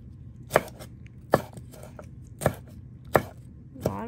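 Small bell peppers chopped with a knife on a cutting board, five crisp, evenly spaced strikes about a second apart, close and distinct with nothing else audible.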